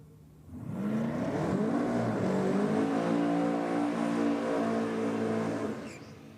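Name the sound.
Datsun Skyline drag car making a solo run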